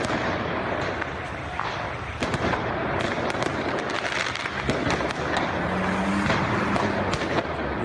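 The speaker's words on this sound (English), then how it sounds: "fireworks exploded as migrants reportedly faced off against far-right groups" Fireworks explode near a refugee camp in Greece during a clash between migrants and far-right groups, a rapid irregular crackle of sharp bangs over a loud, noisy outdoor din, continuous throughout.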